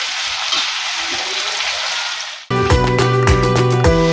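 Tomato and capsicum hit hot oil for besan bhurji, giving a steady close sizzle that suddenly gives way to a louder, dense burst of frying crackle, with no voices.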